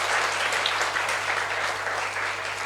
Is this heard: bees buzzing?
no